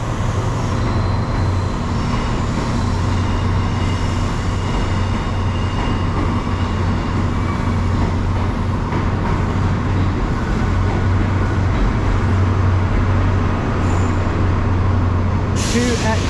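Passenger train led by power cars 144 and 163 running past a platform, a steady heavy rumble with a sustained low drone throughout, loud and close.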